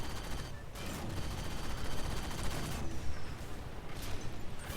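A cannon weapon fires in a Halo 5 multiplayer match as a dense, continuous barrage of loud blasts and crackling impacts, with the noisy battle texture running the whole time and no clear pauses.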